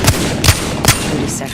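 Gunfire in Apex Legends: three sharp shots spaced about 0.4 seconds apart, loud and close over a steady background of game noise.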